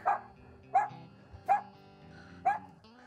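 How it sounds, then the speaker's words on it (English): A dog barks four times at steady, evenly spaced intervals, fairly close and clear over a quiet lakeside background during crappie fishing on Neely Henry Lake. "Maybe we need more barking dogs."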